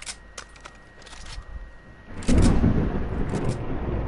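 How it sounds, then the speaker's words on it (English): Thunder in the video game Minecraft starts quiet, then a sudden loud rolling crash breaks in halfway and keeps rumbling heavily to the end. "Yeah, that's thunder."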